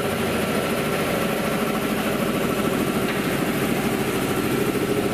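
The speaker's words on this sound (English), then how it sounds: "This air compressor right here" An air compressor runs close by, making a loud, continuous engine-like drone with a fast, even mechanical chug that never changes, and no one talks over it.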